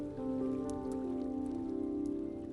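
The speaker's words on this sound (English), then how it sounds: "rain began to fall. It was not a storm, but a soft, steady, life-giving shower" Gentle, steady rain falling in a soft, continuous patter with a few faint drips, evenly paced and fairly quiet, alone with no voices.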